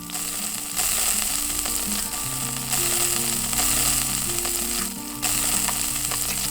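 Pork and beef sizzle on a grill in the Yakiniku Simulator video game, a constant crackling fry punctuated by repeated clicking tones as pieces are placed and flipped, with no talking.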